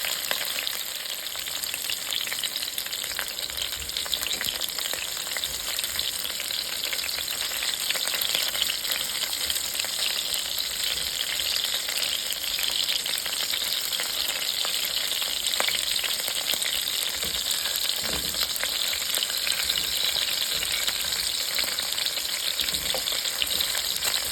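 Smoked ribs browning in a hot pot give off a loud, steady sizzle and crackle that continues without a break. There is no talking.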